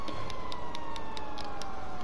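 Fire engine siren in the GTA 5 video game, a steady wailing tone holding throughout, moderately loud and continuous, with no talk over it.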